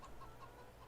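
Farm chickens in Farming Simulator 22 cluck softly in a brief run of repeated short calls over a low background hum, with no talk.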